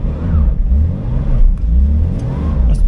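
A car engine held at full throttle, loud and close, with a steady low drone that rises and wavers over a few seconds as the car drives.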